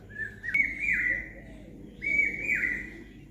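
A bird calls outdoors in two clear, bright whistled phrases separated by a short pause, standing out over a faint background hum.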